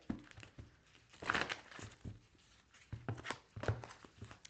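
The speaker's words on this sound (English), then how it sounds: "I feel like we need to give this a little bit of a shuffle here." A tarot deck is shuffled close by, with soft irregular riffling and crinkly card-handling bursts at a quiet level.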